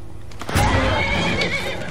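Horse neighing in the video game Skyrim, a loud, close whinny that rises suddenly partway through and holds over steady game background noise.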